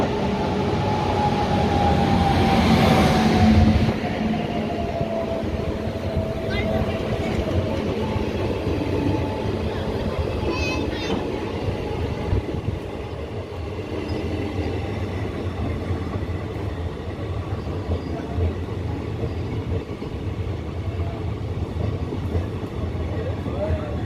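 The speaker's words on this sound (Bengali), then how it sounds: "আর এই হলো সেই ট্রেন বন্ধুরা, ক্রসিংয়ের ওয়াব 7 লোকোমোটিভের সাথে আসছে এই ট্রেন" A train arrives behind a WAP-7 electric locomotive from the Howrah shed, a loud continuous rumble and rattle of wheels at close range, with a brief horn-like tone near the start.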